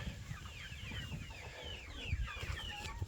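Young Rhode Island Red chickens cluck and chirp softly in a loose, overlapping stream on a homestead, faint and fairly close, with some low rustling beneath.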